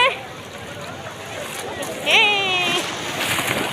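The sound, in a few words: big sea wave splashing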